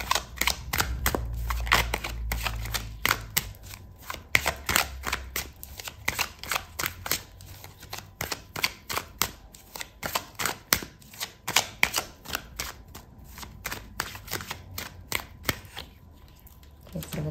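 Tarot cards are shuffled and drawn in rapid riffling bursts of crisp clicking snaps, close and fairly loud, with a person speaking softly at times over the shuffling.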